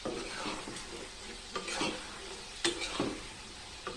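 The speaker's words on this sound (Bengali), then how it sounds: "এই যে আলুটা নাড়া দাও" Potatoes for French fries sizzle softly in a pan while a utensil stirs them, giving occasional louder scrapes and clicks over the quiet, steady frying.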